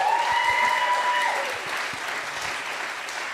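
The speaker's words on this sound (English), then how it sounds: "can we please give Co Shepherd a massive round of applause?" A round of applause from the audience at an education awards grand final, for a first-year teacher: dense sustained clapping that starts loud over a brief tonal cue and gradually tapers off.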